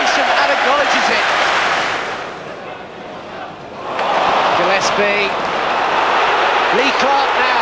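A packed football stadium crowd roars and applauds in a loud, sustained standing ovation for a returning player, the noise dipping briefly before swelling again.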